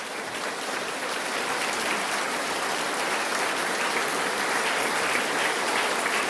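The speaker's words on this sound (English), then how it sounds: "Please stand so we can give you some applause as well." Sustained applause from a large crowd at a state address, steady and fairly loud throughout with no talking.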